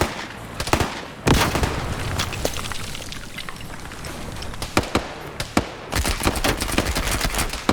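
MP40 submachine-gun fire in a large Vietnam-era multiplayer game match, sharp bursts and single cracks scattered through the stretch, with a dense rapid volley near the start and another toward the end, mid-distance and fairly loud.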